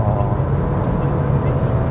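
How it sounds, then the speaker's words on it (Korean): Hyundai Avante 1.6 gasoline engine revving during a road drive, a loud steady somewhat rough drone with heavy low rumble and road noise filling the whole stretch. "지금 엔진 회전음은 조금 거칠어요"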